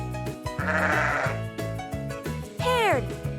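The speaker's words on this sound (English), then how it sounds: "look at this fluffy sheep." A sheep on a farm gives a single wavering bleat near the end, heard over a steady, bouncy children's music backing.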